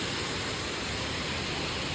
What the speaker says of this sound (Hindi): यहाँ पे सुंदर झरना